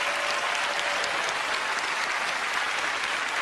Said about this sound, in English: Give her a huge round of applause, please.